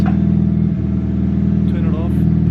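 A Mazda FD RX-7 rotary engine runs loud and close with a steady buzzing, pulsing drone, while people talk briefly over it.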